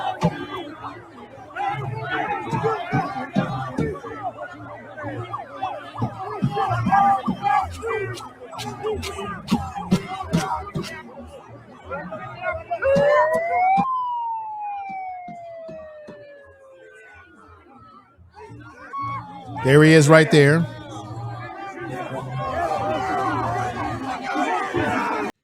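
An outdoor crowd surrounds and chases a provocateur out of a Minnesota gathering, with dense overlapping shouting and chatter, a rising and falling siren wail midway, and a sudden loud burst of yelling near the end.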